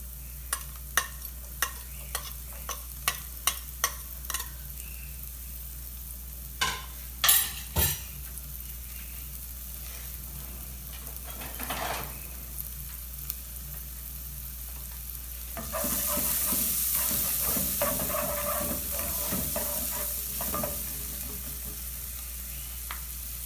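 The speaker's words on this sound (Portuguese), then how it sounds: "Vou colocar cebola picadinha." Chopped half onion going into a hot frying pan for a pasta sauce, first a series of sharp utensil clinks and taps, then a louder, steady sizzle rising and holding to the end, no voices.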